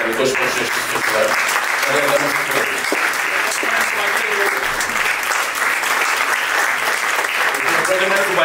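An audience at the Syros Jazz Festival 2022 claps loudly and continuously, a thick wash of hands with faint voices and cheers mixed in near the start and end.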